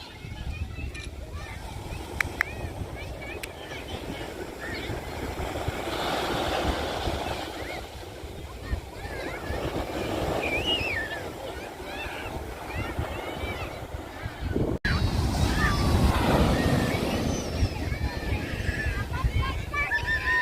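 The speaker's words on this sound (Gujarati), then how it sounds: "હવે જોવો કેવા મોજાના અવાજ આવે છે." Sea waves roll onto a Goa beach in a continuous wash of surf, with wind buffeting the microphone and voices talking nearby throughout.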